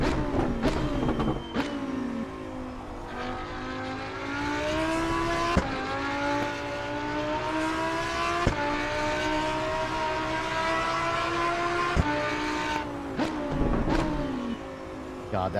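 Race car engine in the Assetto Corsa EVO driving game, holding a steady high-pitched drone that climbs and drops with sharp, crisp gear shifts every few seconds; loud and continuous throughout, with no talking.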